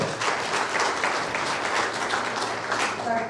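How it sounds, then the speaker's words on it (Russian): Audience applause at a talk given in Dallas, Texas, a dense, steady wash of many hands clapping that holds at an even level throughout, with no voices breaking through. "Давайте по аплодисментам."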